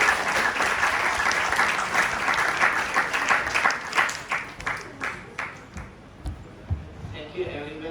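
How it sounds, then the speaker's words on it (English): Audience at a mental health event hosted by a college Rotaract club gives sustained applause, dense at first and then thinning into scattered individual claps before fading out. "Let us have a huge round of applause for Dr."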